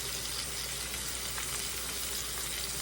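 Salted and peppered squash frying in a pan, giving a steady, even sizzle that stays at one level throughout with no voices over it.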